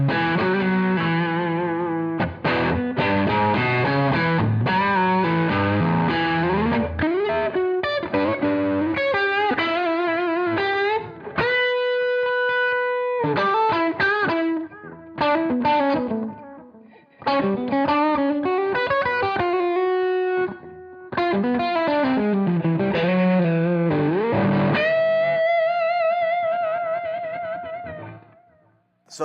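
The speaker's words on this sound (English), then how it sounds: "what you just heard was just the delay Llama" Electric guitar played through a Jam Pedals Delay Llama analog delay, a Tube Dreamer 72 overdrive and an RC boost: loud, continuous driven playing with long delay repeats trailing sustained notes, and brief gaps between phrases.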